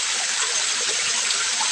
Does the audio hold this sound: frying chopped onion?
no